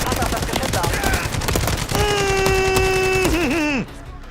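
Rapid gunfire bursts from a gun turret in the Call of Duty Modern Warfare 3 video game, loud and continuous, joined partway by a steady electronic whine that bends downward before cutting out.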